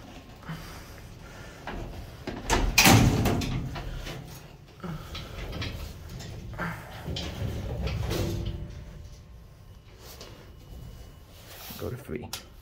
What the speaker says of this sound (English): Close the doors first.